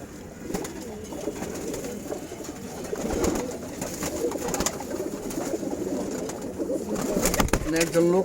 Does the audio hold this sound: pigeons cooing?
yes